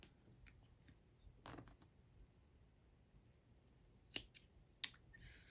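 Scissors snip through crochet yarn in a quiet room, a few faint, crisp cuts scattered over a few seconds with soft handling noises between them.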